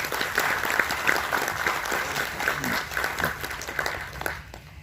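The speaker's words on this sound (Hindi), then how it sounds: "कृपया इनका भी ताली बजाकर स्वागत करेंगे" An audience at a retirement felicitation event claps to welcome a guest onto the stage, sustained applause from many hands that fades toward the end.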